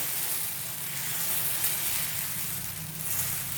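Uttapam batter made with rava sizzles steadily on a hot tawa, a close, even hiss that carries on without a break.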